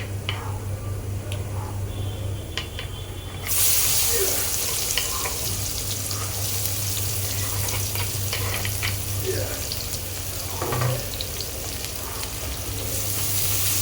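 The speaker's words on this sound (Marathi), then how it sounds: "कांदा छान फ्राय करूया कांदा ब्राऊन तर गोल्डन फ्राय तर फ्राय करायचं आपल्याला" Finely chopped onion dropped into oil already browned with asafoetida and garlic, for a capsicum and soya dish: the sizzle swells suddenly louder a few seconds in and then hisses steadily, with occasional utensil taps, close by.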